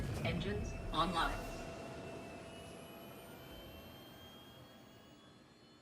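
Spaceship engines spin up in Star Citizen, a Mustang with Anvil Aerospace systems nearby, a whining jet-like hum with rising tonal whine, loudest early with voices over it, then fading steadily.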